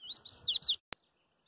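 Papa-capim seedeater bird in a cage, giving a quick run of bright, close chirps followed by a single sharp click, then silence.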